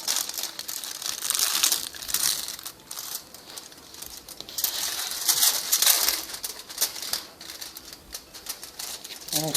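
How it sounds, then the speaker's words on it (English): Aluminium foil being folded and creased by hand for a home stained-glass art project, a steady crinkly rustling that swells and eases across the whole stretch, close and fairly soft. "So I'm going to fold the foil on the back side."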